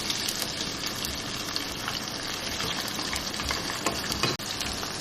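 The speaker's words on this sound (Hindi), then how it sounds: "ये मैंने गोश्त डाल के इसको भून लिया है प्याज के साथ" Mutton frying with onions in a pan makes a steady, close sizzle with crackling and bubbling throughout, with a brief stir near the end.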